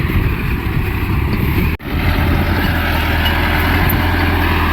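An Arjun 4x4 CRDI tractor ploughs a field, its diesel engine giving a steady low rumble that runs continuously, with one sharp brief dropout partway through.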